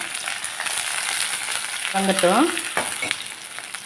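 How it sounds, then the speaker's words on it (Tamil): Curry leaves and small shallots sizzle steadily in hot oil in a pan, a continuous close frying hiss, with a brief spoken word partway through. "இப்போ இதில் வந்து நம்ம கருவேப்பிலையும் சின்ன வெங்காயமும் போட்டுருவோம்"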